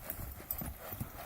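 Horse hooves clip-clop in a quick trotting rhythm on the ground as an Arabian horse works in circles, the beats close and fairly faint, with no voices.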